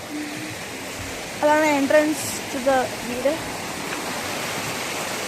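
Water flowing steadily from a stream near a cave, a constant broadband rush heard close by throughout, with a person speaking briefly over it partway through.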